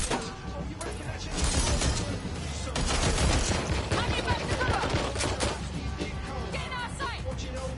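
Gunfire in Watch Dogs: Legion, repeated sharp shots and bursts over several seconds amid loud chaotic game action with clatter and impacts, a voice occasionally audible beneath.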